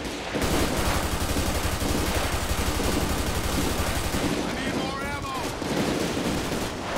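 Sustained, rapid gunfire keeps up throughout a GTA 5 police shootout in the LSPDFR mod, with dense overlapping shots and a siren-like wail briefly rising near the end.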